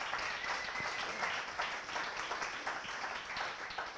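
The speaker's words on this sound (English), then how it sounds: "Let's give him a massive round of applause." Audience applause after a thanks at a PropTech event, a steady dense wash of many hands clapping throughout, fairly distant and even, with no talk over it.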